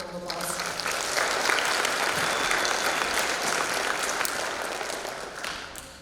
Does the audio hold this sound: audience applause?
yes